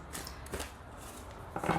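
Tarot cards are shuffled for a pick-a-pile reading, a quiet close riffling and slapping in a few short bursts with no talk over it.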